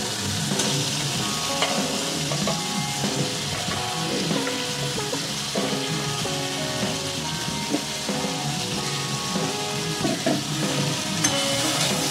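Taro stems stirred and fried in a spiced paste for a Bengali hilsa curry, with a steady close sizzle and frying crackle continuing throughout alongside scraping stir strokes.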